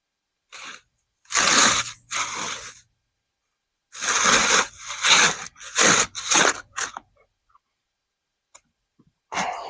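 An oscillating multi-tool cuts into the dense foam of a bow target in short, loud buzzing bursts: two near the start, then a run of five quicker ones, with quiet gaps between them.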